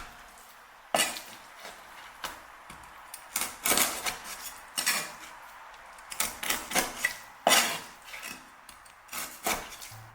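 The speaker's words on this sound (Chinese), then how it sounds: "再把切好的鱼块给它改刀，将它1分为2" A kitchen knife slices pieces of fish in half for a home-cooked Chinese fish dish, giving a run of sharp, close chops and taps against the board in irregular bursts, with no talking.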